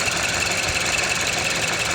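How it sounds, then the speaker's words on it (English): Mazda CX-7 engine idling rough with a vacuum leak, a steady close mechanical hum and whir with faint uneven stumbling in the low end, running continuously with no talk. "I could hear the engine starting to stumble now"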